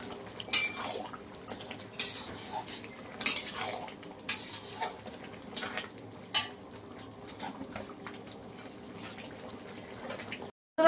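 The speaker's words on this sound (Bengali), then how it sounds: "চিনিটা বেশ সুন্দর করে নেড়ে দিতে হবে।" Metal spoon scraping and clinking against a pot while sugar is stirred into a pumpkin, Malabar spinach, chickpea and prawn curry, with repeated sharp scrapes at an irregular pace over a soft background hiss, no voices.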